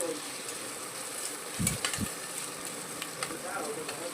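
Onion frying in a pan for a cluster bean and potato vegetable dish, giving a steady close sizzle with a couple of low thumps of stirring.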